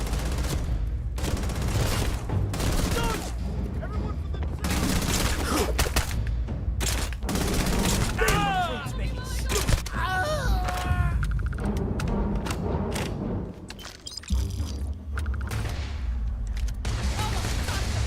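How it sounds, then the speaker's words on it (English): A sci-fi firefight in the game Starfield, with dense, rapid gunfire rattling almost nonstop and brief whining electronic chirps rising through the middle of the barrage. "Lay down some cover fire."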